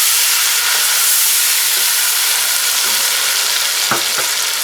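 Onions, tomatoes and green chili paste fry in a pan with a loud, steady sizzling hiss, broken near the end by a few sharp scrapes and clinks as the mixture is stirred.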